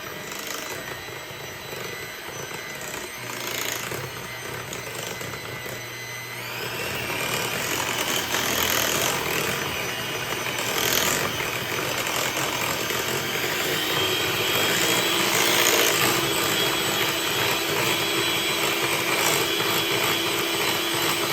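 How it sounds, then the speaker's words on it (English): An electric mixer blends sweet rice bread batter with baking powder, a steady close whirring drone that swells louder partway through and keeps running without pause. "I'm gonna blend that."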